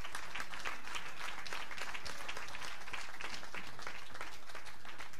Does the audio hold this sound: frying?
no